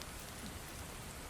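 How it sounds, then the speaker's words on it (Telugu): Steady, faint rain falling outdoors, a continuous soft patter with no voices over it. "బయట వర్షం పడుతుంది మేడం"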